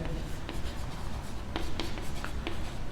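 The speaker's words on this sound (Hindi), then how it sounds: "तो मैं पहले क्यू आर लिखता हूँ।" Pen scratching on paper while a geometry problem on triangles is worked out, a few quick close strokes over a faint room hum, with no talking.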